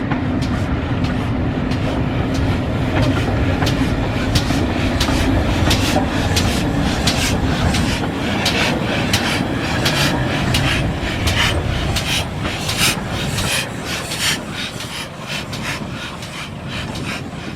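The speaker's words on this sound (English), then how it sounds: "Does look odd this year, steam loco being pulled backwards" Heritage train with a steam locomotive hauled backwards at its tail rolls past up close, a loud continuous rumble overlaid with rapid rhythmic wheel clatter over rail joints.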